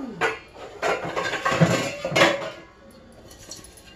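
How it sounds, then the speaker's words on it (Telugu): A cooking pot is picked up and handled in a home kitchen while basmati rice pulao is being prepared, with several metallic clanks and clinks up close, then quiet. "గిన్నె ఒకటి తీసుకోవాలి ఫ్రెండ్స్"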